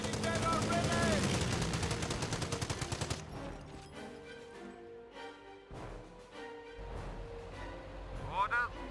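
A strafing run in Company of Heroes opens with loud, rapid machine-gun fire in dense bursts for about three seconds, then fades into quieter battlefield sounds and scattered game effects.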